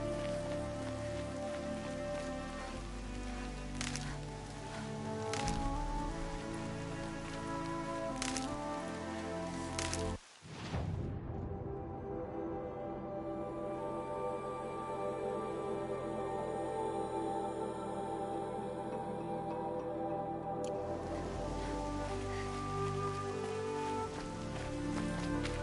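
Steady rain falls across a game landscape beneath a sustained musical bed, cutting out abruptly for a moment about midway before the wash of drops resumes at the same even level.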